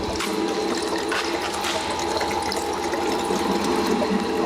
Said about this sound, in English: it's bloody sound like a brand new washing machine